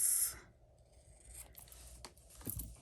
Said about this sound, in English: get our scissors and cut this